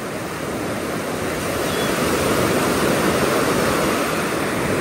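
Sea waves washing onto a beach, a broad continuous roar of surf with some wind, loud and close, swelling slightly and with no talk.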